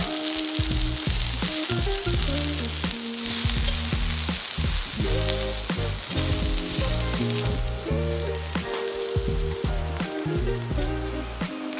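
Minari (water dropwort) hits a hot pan at a campsite, setting off a loud, steady sizzle and crackle of frying, with scraping stir sounds and a background music track running throughout.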